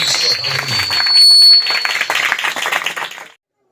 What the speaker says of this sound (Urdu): آئیے ہم روح القدس کے لیے زوردار تالیاں بجا کر روح القدس کو ویلکم کریں.